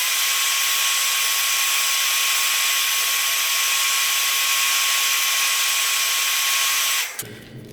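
Heat gun blowing hot air onto the arms of a wrestling action figure gives a loud, steady whooshing roar with a thin constant whine, running unbroken for about seven seconds before switching off.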